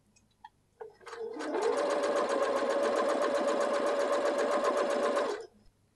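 A sewing machine stitches a pocket over a bulky seam, running steadily for about four seconds with a dense rapid mechanical whir, starting after a few small clicks and stopping cleanly.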